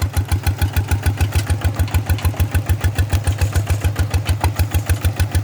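Small RT100 walking tractor engine of about ten horsepower, fitted with steel wheels and pulling a two-disc plough through a paddy field, chugging steadily with a fast even thump, close and loud and laboring a little under the load.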